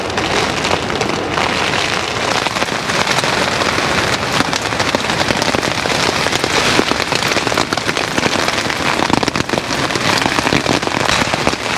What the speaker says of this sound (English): Just listen to that wind and rain.